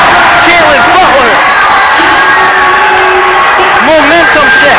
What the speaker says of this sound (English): The crowd is on their feet as Niles North, their students, showing out and going crazy.